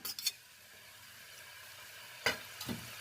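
Garlic and coriander frying in a pan for tomato chutney, a faint steady sizzle broken by a few brief stirring scrapes and clinks at the start and near the end.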